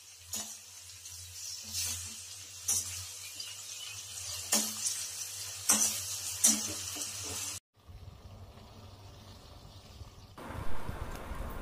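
Hilsa fish curry sizzles with spatula scrapes and clinks, then a sudden break leads into water being poured into the pan with a rushing, gurgling wash and softer bubbling after.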